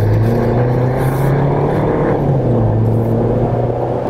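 Lifted Jeep with a 2.5-inch lift on 37-inch tires cruising on the freeway, a steady loud low engine and road drone with continuous tire and wind noise, no talk.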